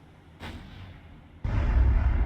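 Torpedoes launch from the Japanese warship Mogami during the Battle of the Sunda Strait in War on the Sea, a soft thump followed a second later by a louder, sustained rushing launch blast.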